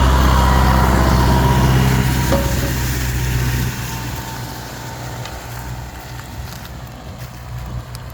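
A tractor towing a 3.9-metre-wide shredding implement runs across a field at about 15 km/h, chopping bean crop residues: a loud, steady low engine drone with broadband rumble that eases slightly partway through.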